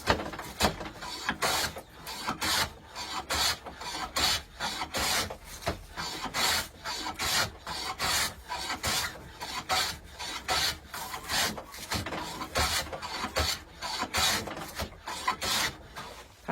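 A No. 11 hand plane shaves wood against the grain in quick, rhythmic strokes, each a rasping swish close by, repeating steadily throughout with no talk.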